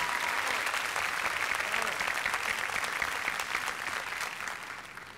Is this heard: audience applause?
yes